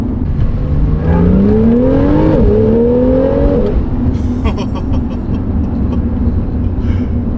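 Porsche 911 engine at full throttle, loud and close, with a rising rev that briefly dips at a shift, climbs again, then holds a steady high drone.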